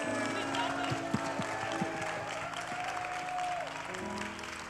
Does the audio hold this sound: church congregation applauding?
yes